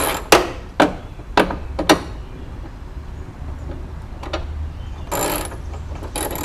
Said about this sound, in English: Tyler, you weren't joking when you said this is a shitty ratchet